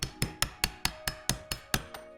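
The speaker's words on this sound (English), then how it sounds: "So I'll just tap it down with a hammer." Eleven sharp metallic hammer taps on a car's idler pulley retainer in a steady, even rhythm, close and clear, each one ringing briefly before the next strike.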